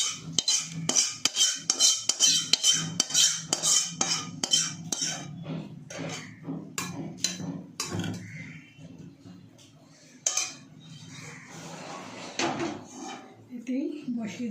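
Potato curry being reheated in a pot, with close metallic clinks and scrapes of a spoon against cookware in a busy rhythmic run, followed by softer clatter and a voice speaking over it.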